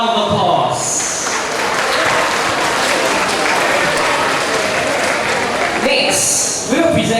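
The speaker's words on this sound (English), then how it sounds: "Let's give them another round of applause." Loud, sustained audience applause at a 2025 graduation ceremony honoring academic award recipients, a dense continuous roar of clapping from a large crowd, with brief voices at the start and end.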